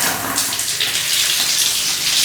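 A household tap runs hard onto a cleaning mop, a steady, loud rush of water lasting a couple of seconds with no voices.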